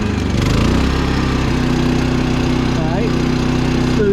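An old RV's overdue generator runs with economy mode switched off, a loud, close, steady engine drone with a slight throb and no break across the few seconds.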